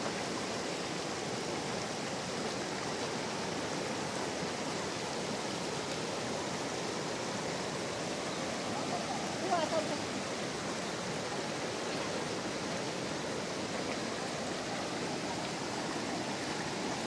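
The Relli river flows as a steady stream in Kalimpong, a constant even rush of water, moderately quiet and with no voices.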